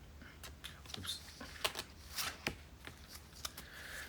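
Collectible cards from a Blu-ray collector's edition are handled close up, with soft papery slides, flicks and light taps coming in irregular bursts, quiet and without talk.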